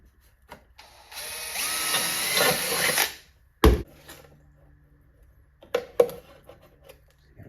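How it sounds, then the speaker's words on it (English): A power drill with a 3/16 inch bit bores a hole for a 3/16 inch rivet, giving a high, steady whirring burst of about two seconds, followed by a few sharp knocks and handling clunks. "So I've got a 3/16 inch drill bit because I know this is a"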